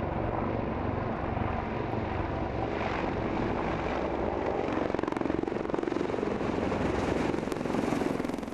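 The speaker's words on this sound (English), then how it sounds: "this is the Army's latest helicopter, the Apache, which we see here on deployment in Afghanistan" Apache military attack helicopter flying on deployment in Afghanistan, a steady broadband engine and rotor roar that stays loud and fairly constant throughout, swelling slightly toward the end.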